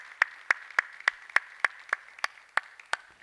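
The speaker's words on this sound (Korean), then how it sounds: "모두를 위해서 우리 감사의 박수 한번 하겠습니다" At a special dawn revival service, a church congregation gives a round of thanks, heard as a string of sharp, evenly spaced single claps in a steady beat, clear and fairly close, with no talk over them.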